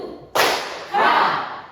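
A classroom of students claps together in a rhythmic routine: two sharp, loud group claps about half a second apart, each ringing briefly in the room.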